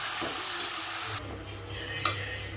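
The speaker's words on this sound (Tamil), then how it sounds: "தக்காளி நல்லா மேஷ் ஆகிற வரைக்கும் வதக்கணும்." Tomatoes with rock salt sautéing in a pan, a loud sizzle under stirring that drops off abruptly partway, followed by quieter frying and a brief clatter.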